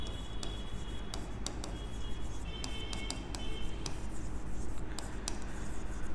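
Pen strokes scratching out an accounting equation on paper, a run of quick ticks and rubs that stay soft and close against a steady background hum, with no one talking.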